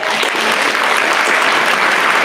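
Audience applause at an 8th grade graduation ceremony, a dense, loud, steady clapping from a large crowd filling the whole moment.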